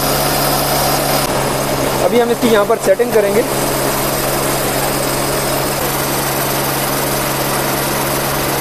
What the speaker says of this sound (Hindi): जैसे ही मैंने चौक रखी तो एकदम से ये स्टार्ट हो गई है।